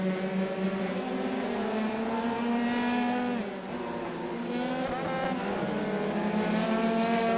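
Several race cars in the iRacing sim racing game scream through the final corners near Stowe in a close-running pack, their high engine whine loud, steady and layered, with pitch shifts as they brake and accelerate.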